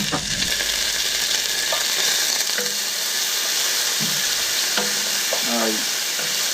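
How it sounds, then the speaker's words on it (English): Chopped garlic sizzles loudly in a hot pan while being stirred, a dense continuous hiss broken by scraping strokes of a utensil, close and alone with no talk. "You want to cook the garlic down a little bit, just maybe a couple of 20 seconds or so."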